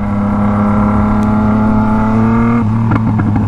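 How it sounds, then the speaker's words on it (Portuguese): A motorcycle goes by on the road close up, its engine holding a loud steady drone and then dropping in pitch as it passes, with no voices. "Nossa, outra moto. Outra moto."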